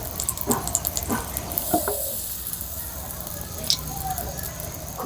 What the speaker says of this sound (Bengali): এখানে একইভাবে বাকি পিঠেগুলোও ভেজে নেব।